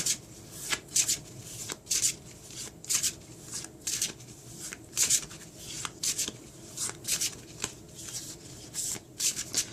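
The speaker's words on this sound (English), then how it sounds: "when I was properly shuffling the deck" A deck of tarot cards being shuffled by hand, repeated quick riffling bursts in an irregular rhythm, close and fairly quiet.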